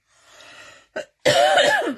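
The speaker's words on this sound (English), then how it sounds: "My festival cough's come back just for today." A person coughs close up: a breathy rasp, a short sharp cough, then a longer, harsher throaty cough.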